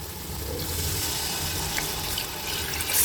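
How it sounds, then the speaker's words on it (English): Water pours steadily into a pan of chicken curry masala with yogurt and mint, a continuous splashing rush that swells slightly toward the end, with no talking. "And yeah, now goes the water."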